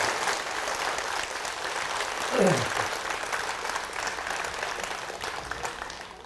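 A church congregation gives loud, sustained applause of encouragement, a dense wash of many hands clapping that runs for several seconds while a voice briefly sounds over it.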